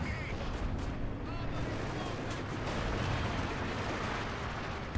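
Heavy mortar and other artillery fire in a Company of Heroes 2 battle between German and Soviet forces, a dense, continuous rumble of booming shots and blasts throughout, with commentary voices over it.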